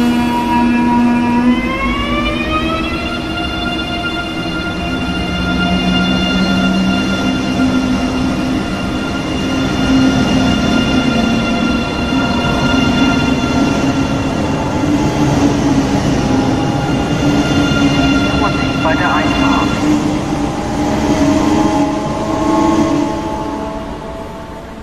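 A train rumbles steadily past the Beningbrough level crossing on the East Coast line, its loud wheel roar and wagon clatter continuous and close, overlaid by ringing crossing alarm tones that shift pitch.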